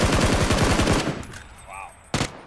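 Automatic gunfire in a battle royale video game: a fast, evenly spaced burst of shots rattles close and loud for about a second, fades into quieter tails, and a single sharp shot follows shortly after.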